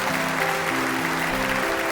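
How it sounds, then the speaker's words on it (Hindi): School audience applause, a dense steady wash of clapping from a large crowd, loud and continuous, with a sustained musical tone underneath. "पूरा स्कूल तालियों से गूंज उठा।"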